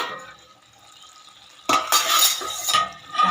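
Near-silence gives way to a sudden clatter as a lid comes off a pot of vegetables cooking in milk, followed by bubbling, sizzling and metal scraping.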